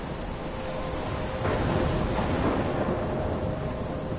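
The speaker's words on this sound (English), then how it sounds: "I'm trapped in a storm" In the video game Life is Strange, a thunderstorm roars as dense, steady rain hisses and a low rumble of thunder swells midway, all loud and enveloping.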